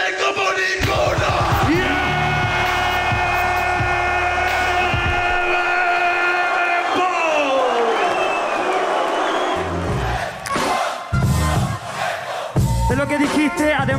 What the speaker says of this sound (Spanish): mira cómo grita todo el mundo